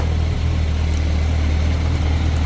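A Suzuki Bandit 1250S motorcycle idling with its cooling fan running, a steady, loud droning hum with a constant low rumble and no variation.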